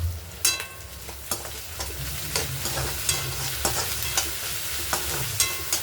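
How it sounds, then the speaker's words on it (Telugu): Ginger garlic paste fries in a pan for egg fried rice with a steady close sizzle, while a spoon scrapes and stirs in repeated sharp clinks across the clip. "అల్లం వెల్లుల్లి పేస్ట్ వేస్తున్నానండి."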